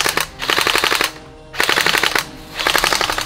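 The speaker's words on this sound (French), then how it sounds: "Il utilise une réplique électrique. On l'entend au bruit de la gearbox." An electric airsoft replica gun fires three quick bursts of rapid automatic shots. The whirring gearbox clatters under each burst, with short pauses between them.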